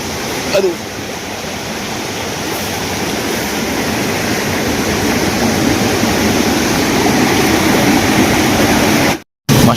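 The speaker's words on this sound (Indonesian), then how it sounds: "sumber mata air di tempat ini, di sungai ini ya, sangat jernih sebening kaca teman-teman." Clear spring-fed river stream rushing through a forest, a loud steady broadband flow of water that fills the whole clip, with a brief dropout near the end.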